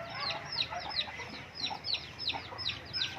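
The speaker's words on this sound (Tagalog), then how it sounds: "may inahin dyan" A hen clucking down below in a backyard flock as darkness falls, a run of close, repeated clucks in an uneven rhythm, with no voices.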